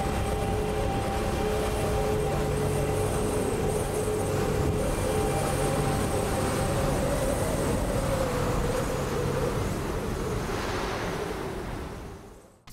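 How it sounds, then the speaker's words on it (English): A recreated firestorm roars as a dense, continuous wall of rushing noise with a low droning hum of bombers beneath it. It stays loud and steady before fading out at the very end, with no voices. "So on the ground you have the screaming and the roaring of the fire."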